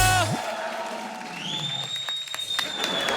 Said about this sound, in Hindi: तालियों के बीच में बच गए।